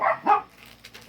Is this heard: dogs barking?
yes